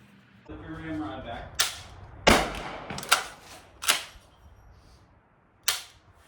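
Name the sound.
Kel Tec KSG shotgun firing at range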